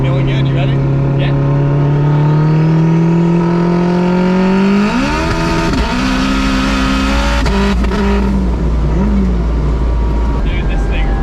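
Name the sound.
1000HP Acura RSX DC5 car accelerating and shifting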